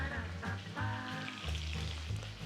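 Garlic, cumin and pepper paste with curry leaves sizzles loudly and steadily in hot oil in a pan while making pepper rasam, a continuous close crackling frying hiss with no one talking.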